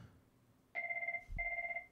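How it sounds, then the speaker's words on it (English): Landline telephone ringing indoors: two electronic trilling rings, each lasting about half a second, after a short quiet lead-in, fairly clear against a low background. "Why is my landline ringing right now?"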